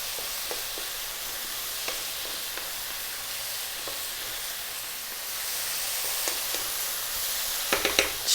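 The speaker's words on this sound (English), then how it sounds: "2 more minutes, stirring all the time." Mushroom soup gets stirred in a pot on the stove, a soft continuous sizzle and hiss with faint scraping strokes at irregular intervals and a few louder clinks near the end, no voices.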